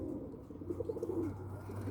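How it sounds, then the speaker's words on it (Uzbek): Pigeons coo softly in a short rolling series of low throaty notes over a steady low hum, fairly faint and without speech. "Qushlar o'tirishibdi kutib."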